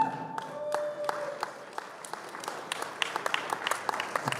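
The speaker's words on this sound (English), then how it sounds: "Give a round of applause to Zeeland" Audience applause at a women's right-arm armwrestling match at the Hardanger Open, with a burst of clapping and crowd noise after an introduction, sharp claps building and continuing steadily throughout.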